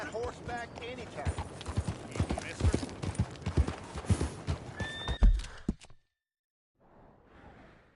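Horse hooves clip-clop and a horse neighs in the Red Dead Redemption 2 video game, steady hoofbeats under game dialogue and ambience, ending in a sudden quiet with faint background noise.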